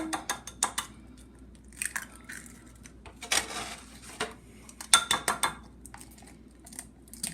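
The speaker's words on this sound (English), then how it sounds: "I'm just cracking the eggs. I crack them into a bowl." Six eggs are cracked one after another into a bowl in a home kitchen, giving sharp clustered taps and cracks with short pauses between them, close and fairly loud with no talking.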